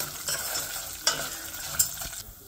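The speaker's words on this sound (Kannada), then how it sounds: "ಈಗ ಸಾಸಿವೆ ಹೊರಟಾಯಿತು" Mustard seeds, urad dal, chana dal and curry leaves sizzle in hot oil for uppittu, giving a steady frying crackle close by, with a few sharp pops from bursting seeds.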